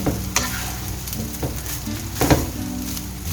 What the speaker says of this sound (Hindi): ये गए हमारे इसमें राइस। इनको हल्का सा चला देंगे